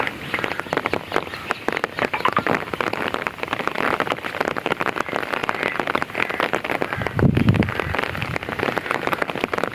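Steady, dense rain falling on surfaces in the evening, a continuous hiss with pattering drops, fairly loud and close throughout.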